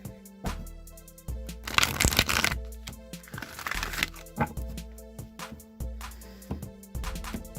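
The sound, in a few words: shuffling oracle cards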